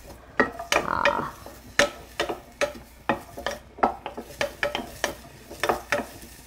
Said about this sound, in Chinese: 好，我来炒一个洋葱